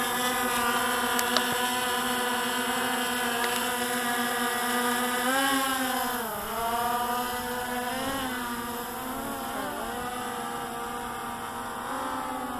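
Hubsan X4 Pro drone running 3DR Solo props, a steady droning motor buzz with layered harmonic whine that sags and recovers in pitch several times under load, loud and near, with a couple of faint clicks and no speech.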